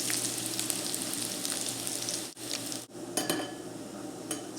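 Bacon sizzling in a pan with thyme and garlic, a steady close frying hiss with brief gaps and a few light stirring scrapes.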